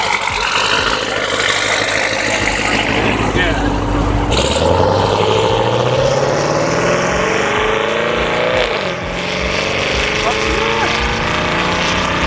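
A twin-turbo C7 Corvette making roughly 1500 wheel horsepower, with an intake and nitrous setup, revs loudly and continuously, its engine note rising and falling over a steady roar, with people talking around it.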